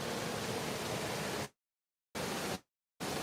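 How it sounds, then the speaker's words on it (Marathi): A waterfall reached by a slippery, moss-covered path gives a loud, steady broadband roar that is cut off abruptly by two short silent gaps, with no voices. "हे बघा हा धबधबा आहे"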